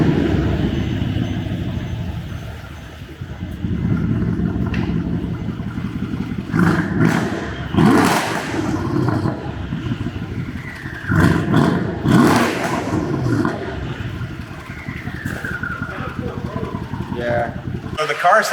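BMW M3 with a modified exhaust, engine idling under people's talk with several sharp revs rising and falling, loud and close.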